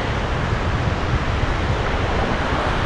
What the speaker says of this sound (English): That should be all nice waves and stuff behind me.